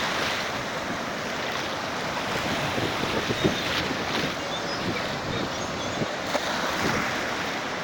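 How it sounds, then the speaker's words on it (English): Ocean waves rolling in at Ocean Beach, San Francisco, a broad steady wash of surf with wind buffeting the microphone throughout. "Look at all these waves coming in."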